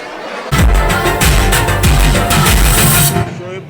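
Loud, dense audience applause for a song at a departmental Urdu teachers' gathering in Patur, bursting in suddenly, holding steady for under three seconds, then cutting off.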